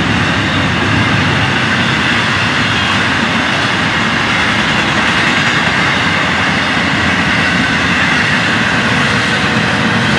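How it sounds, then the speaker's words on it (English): A loud, steady roar and rumble of a passing FEC freight train with double-stack cars, continuous broadband noise with no letup and no voices. "There's the train. There it goes."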